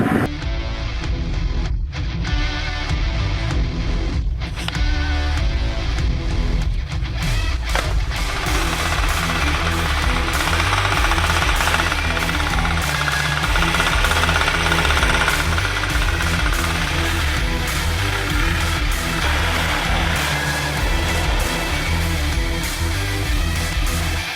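A tractor works a tilled potato field on a Lviv-region farm, planting seed potatoes behind it: a loud, steady engine drone with rattling, knocking mechanical clatter running continuously, no voices.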